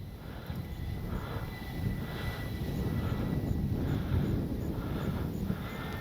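A Freewing AL37 RC jet flies overhead on a windy day, its engine giving a steady broadband rushing roar at moderate distance, mixed with wind buffeting the microphone.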